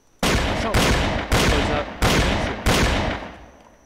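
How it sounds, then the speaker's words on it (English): Five heavy shotgun blasts from the Roblox Wild West game fire at a steady interval, each loud and booming with a long decaying tail, and no voices. "I will try and shoot at him"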